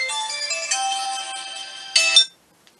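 A phone rings with a loud, bright electronic melody that plays continuously, swells near the end and then stops abruptly, leaving silence.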